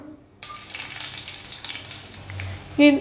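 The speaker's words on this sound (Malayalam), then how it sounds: "കടുക് പൊട്ടിയ ശേഷം ഇതിലോട്ട് 2 ചെറിയ ഉള്ളി അരിഞ്ഞിട്ട് കൊടുക്കാം" Chopped shallots frying in hot coconut oil with popped mustard seeds for a Kerala moru curry, a steady close sizzle after a quiet start, with a louder clatter near the end.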